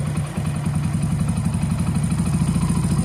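A motorcycle engine runs steadily close by during carburettor adjustment, a continuous low throbbing idle with a slight rise in pace, loud and alone with no talking.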